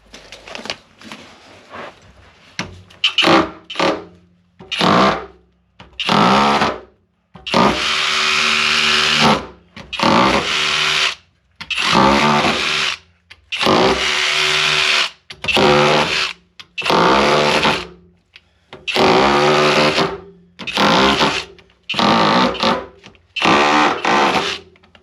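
Tool run back and forth across a towel-covered radiator during a heating system flush, loosening sediment inside: loud repeated buzzing rattles in bursts with short gaps, close up.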